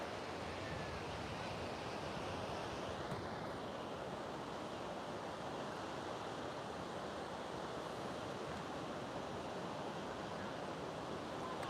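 Ocean surf washes steadily at an oceanfront, a continuous broadband roar mixed with breeze, with no distinct individual wave crashes and no voices.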